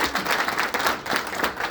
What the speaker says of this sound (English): We'd like to give them a round of applause as well.